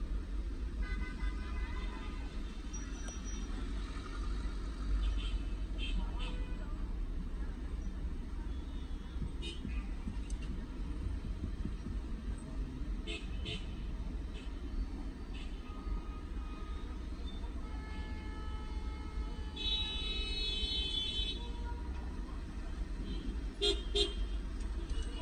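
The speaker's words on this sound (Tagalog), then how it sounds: "Grabe ang traffic." Busy night road traffic in Cairo, Egypt, with a steady drone of car engines and repeated car horn toots, some short and some held, scattered throughout at moderate distance.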